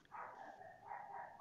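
A dog barks continuously in a faint, muffled way, as if heard from another room, with a steady tone and no clear breaks.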